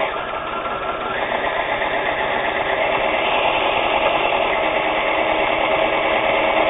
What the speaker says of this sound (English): Let's do a double diamond stitch, or chain link fence stitch